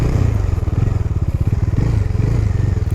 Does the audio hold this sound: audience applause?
no